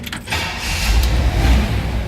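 A 1963 Chevrolet Impala SS convertible with an automatic transmission starts up: a brief starter crank, then the engine catches and settles into a steady, loud idle close by.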